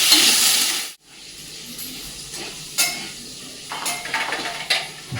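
Steady frying hiss of pumpkin, potato and carrot in a pan, close up, broken by scraping and clinks of a spoon against the metal; nobody speaks.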